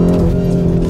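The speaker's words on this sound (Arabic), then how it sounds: "اسمع داون شيفت" A 2021 Lamborghini Urus super SUV engine sounds loud and steady, a deep continuous rumble with no clear separate blip.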